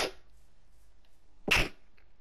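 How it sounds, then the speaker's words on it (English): A person sneezes once, sharp and close, after a short quiet breath-like burst at the start, with near silence between. "I'm about to sneeze."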